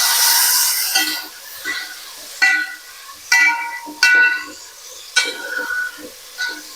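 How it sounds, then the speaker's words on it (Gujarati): Chopped tomatoes stirred into browned onions sizzling in a pan for a Gujarati mushroom shaak, with a steady low sizzle broken by about half a dozen sharp, close scraping stirs of a spoon against the pan. "તો હવે એમાં આપણે ટામેટા એડ કરીશું બરાબર એને મિક્સ કરીશું"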